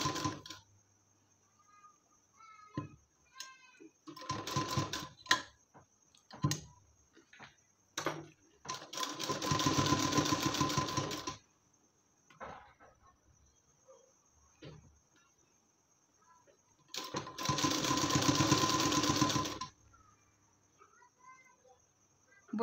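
A sewing machine stitches strips onto a blouse sleeve in two longer runs of a few seconds each, close and clear, with scattered handling clicks and quiet gaps between.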